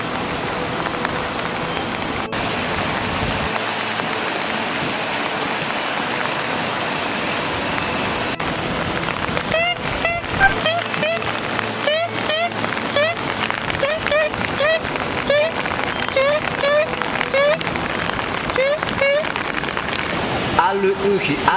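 Steady rain falls in the mountains at Jigokudani, the snow monkey park, a constant patter heard throughout beneath a person talking and then singing.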